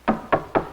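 Three firm, evenly spaced knocks sound close by on a door in a quick rhythm, each one short and resonant.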